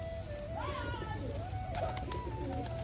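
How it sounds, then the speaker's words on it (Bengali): Pigeons coo softly while feeding on scattered grain, with a few short throaty calls close by over low background noise. "পায়রাগুলো এখন খাচ্ছে"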